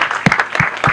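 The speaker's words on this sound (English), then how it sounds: "A round of applause to him." Audience applause at a Kenya Diaspora Homecoming Convention fills a short burst of steady, dense clapping from a crowd, with a few sharper individual claps standing out near the front.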